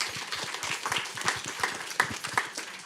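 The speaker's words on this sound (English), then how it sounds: "I think we can applaud her very." A forum audience at a talk on antisemitism gives a sparse, scattered round of applause, individual claps distinct and moderately close, with light background movement and no speech.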